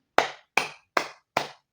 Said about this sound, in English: I'm seated, I'm clapping, I'm all for it.